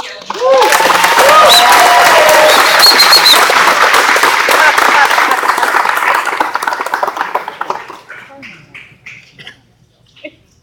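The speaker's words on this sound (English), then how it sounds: "I hope you join me in cheering for Mr. Trump." A loud crowd at a Trump rally in Manchester cheers and claps for Mr. Trump. The dense, sustained roar of applause begins to thin after several seconds and fades to scattered, distant claps at the end.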